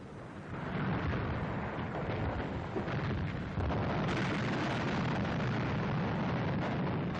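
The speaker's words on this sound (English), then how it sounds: "German batteries opened fire the moment the French hove into sight" German artillery batteries firing in a 1944 wartime newsreel, a dense, continuous roar of booming blasts with no clear gaps, heavy and muffled like an old film soundtrack.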